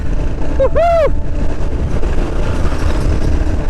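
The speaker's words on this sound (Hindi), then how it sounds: "चलो अब थोड़ा बाइक भगाते हैं।" A motorcycle cruises on a long highway ride from Ratnagiri to Akkalkot, with a steady loud roar of wind and engine and a brief rising-and-falling horn-like tone near the start.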